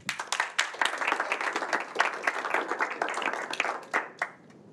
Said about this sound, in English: Just a warm round of applause.